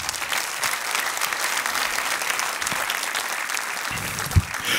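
A church congregation claps steadily, a dense, sustained round of applause from many hands filling the space, fairly loud and even with no voices over it.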